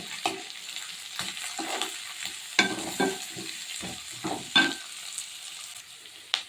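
Garlic and onion frying in butter in a pan for pasta, a steady close sizzle with bursts of stirring scrapes and clatters at irregular intervals, no talking.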